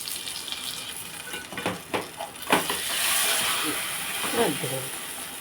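Two eggs beaten with a spoon of gram flour fry as an omelette in a hot pan, a steady close hiss and sizzle running under brief bursts of talk and a few clattering stirs.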